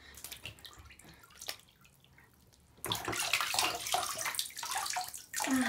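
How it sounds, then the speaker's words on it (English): A Webkinz plush toy is washed in water, with quiet dripping and trickling at first, then louder continuous splashing and sloshing nearby, ending in a sharper splash. "Oh, she made a big splash."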